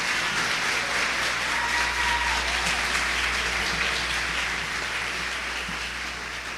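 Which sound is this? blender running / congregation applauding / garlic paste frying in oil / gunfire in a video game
congregation applauding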